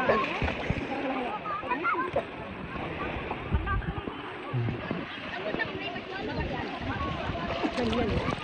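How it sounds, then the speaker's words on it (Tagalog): Swimmers jump and splash into the sea off Anda, Bohol, with repeated splashes and sloshing water mixed with excited voices talking throughout. "Doon tayo tatalon."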